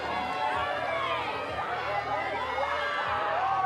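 Home crowd cheers and shouts steadily at a pump track pro final race at Christchurch Adventure Park, New Zealand, a dense, continuous roar of voices throughout.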